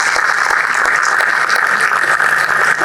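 Applause from the gentlemen at a Zoom induction ceremony fills the room in a steady, dense wash of clapping, loud and continuous with no one speaking over it.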